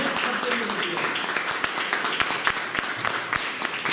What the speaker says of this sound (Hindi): तो एक जोरदार तालियां आपके लिए बनती है।